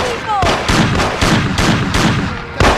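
Gunfire in the Mafia video game, a rapid series of loud, close shots about every third of a second in a sustained burst.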